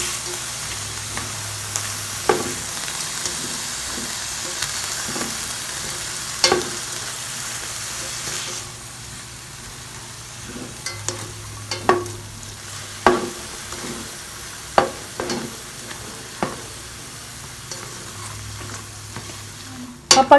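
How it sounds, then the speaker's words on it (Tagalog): Santol and shrimp frying in a pan for sinantolan, a steady sizzle running throughout with repeated sharp clacks and scrapes of a spatula stirring against the pan, close and alone without any talking. "Haluin lang natin ito hanggang sa maluto."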